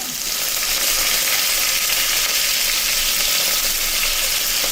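Crushed garlic and curry leaves sizzle loudly in hot oil in a South Indian kitchen, a dense, even hiss that carries steadily from start to finish, close up and without any voices.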